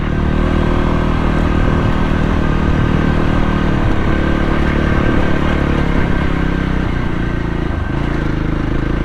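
A Voge 300 Rally motorcycle rides over loose dirt, its engine droning steadily under a constant rush of wind and clattering gravel.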